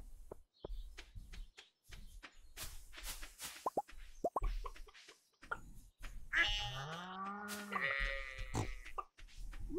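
Farm animals in Stardew Valley, including sheep and goats, give short bleats and game chimes as they are petted, with scattered plops and clicks before a louder cluster of cries near the end.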